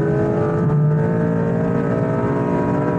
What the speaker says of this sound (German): Da sieht man, wie der Turbo wegzieht.